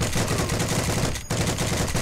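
Heavy sustained gunfire in the World War II shooter Heroes and Generals, rapid automatic bursts close and loud with a brief gap midway.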